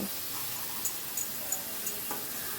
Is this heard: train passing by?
no